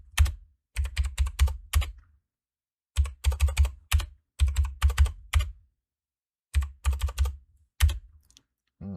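Bursts of rapid typing on a computer keyboard while tuning EFI fuel tables, close and crisp, arriving in three clustered runs separated by short pauses.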